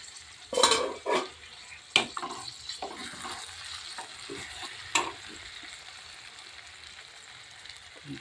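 Chili powder being stirred into brinjal masala curry frying in a pan: a steady soft sizzle under several sharp scraping and clinking spoon strokes against the pot, close up and with no talk.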